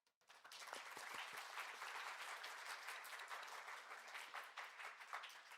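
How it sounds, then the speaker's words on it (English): Audience applause at the opening ceremony of an AI symposium in Seoul, a steady dense wash of many hands clapping that starts abruptly and holds at an even level without fading. "please join me in giving a warm congratulations, a warm round of applause"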